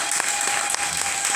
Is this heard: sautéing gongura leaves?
no